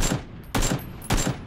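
Gunfire from PUBG, a squad battle royale shooter, rings out as two loud, sharp bursts about half a second apart, each one briefly swamping everything else.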